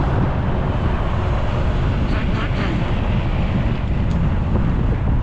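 Steady wind buffets the microphone during a bike ride through a city centre, a constant low rumbling roar with brief faint higher noises drifting through.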